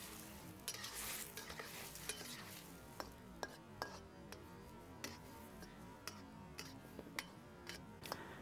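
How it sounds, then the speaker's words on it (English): Faint scraping and sizzling of garlic with tomato and egg being stirred in a pan, with light repeated clicks of a utensil against metal. "Mix it around a little bit."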